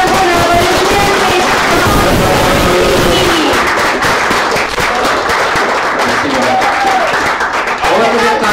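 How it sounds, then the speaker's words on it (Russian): Audience applause at a hackathon awards ceremony, a dense, loud wash of clapping that runs steadily for the whole stretch with voices carrying over it. "гордо, аплодисменты."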